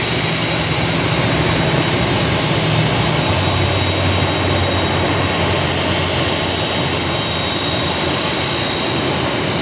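A United airliner on approach to runway 25 left at LAX, a loud, steady jet engine roar that holds unbroken throughout, with no voices.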